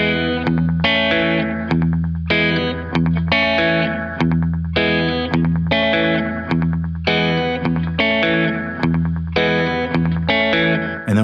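An electric guitar with effects plays a riff slowly and steadily in even, repeating picked patterns, close and loud, with no voice.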